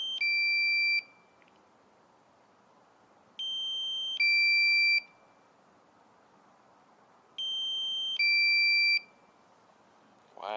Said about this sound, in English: That beep is very annoying.